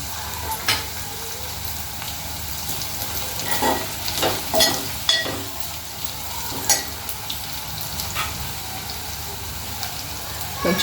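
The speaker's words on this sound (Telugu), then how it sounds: "పచ్చివాసన పోయే వరకు ఇట్లా మంచిగా ఫ్రై చేసుకోవాలి ఉల్లిపాయలు" Onions fry in a pan for chicken fry with a steady sizzle throughout, broken by intermittent scraping stir strokes and soft crackles, close and continuous with no voices.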